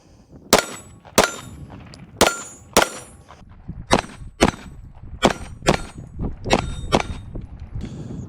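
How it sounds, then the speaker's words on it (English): Ten shots from a SAR9 Socom pistol fitted with a Strike Industries Micro Comp Quad, firing 115 grain CCI Blazer ammunition, sharp loud cracks at an uneven pace with a faint metallic ring trailing each report. "we're going to kick this off with 10 rounds of 115 grain CCI Blazer"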